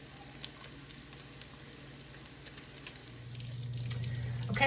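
Bacon sizzles steadily in a pan, a soft, even crackle dotted with small pops that grows a little louder toward the end.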